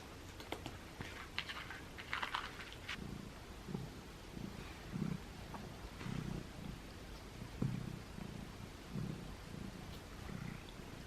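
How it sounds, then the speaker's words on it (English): A cat purrs loudly at close range, a soft rhythmic rumble pulsing with each breath for several seconds, with faint tapping sounds nearby. "Can you hear him purring? He's purring so loudly."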